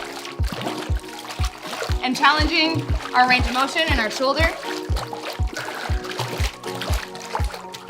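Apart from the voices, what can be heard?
water splashing during dumbbell exercise in swim spa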